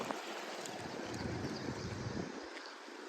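Water flowing in a stream under a small rural bridge, a steady broad rushing wash with some wind buffeting the microphone, continuous and moderately close.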